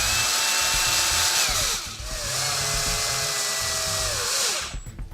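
A power driver whines in long, steady bursts as it tightens nuts and bolts on a G*Made R1 rock buggy kit, pitch sliding as the load changes, close and loud, with a brief pause near two seconds before cutting out.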